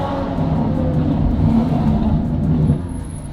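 A Mansory Stallone Ferrari 812 with its V12 engine pulls steadily under acceleration, a loud continuous low drone heard from inside the car, holding at one level before easing off near the end.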